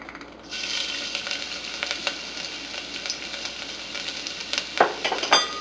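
Ginger dropped into hot cooking oil in a pot bursts into a loud, close sizzle that keeps crackling steadily, with a few light utensil clinks near the end.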